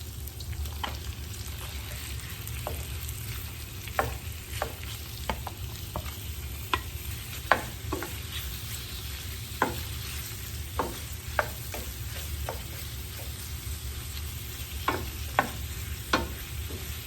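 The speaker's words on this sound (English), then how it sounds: "I'm going to go ahead and add my shrimp" Shrimp and salmon frying together in a skillet, a steady low sizzle under frequent light clicks and scrapes of stirring, close and continuous without talk.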